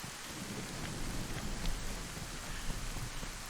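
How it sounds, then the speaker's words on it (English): Steady rain with rumbling thunder in the survival video game DayZ, a dense continuous downpour hiss under low rolls of thunder, no voices. "wait for the rain to stop"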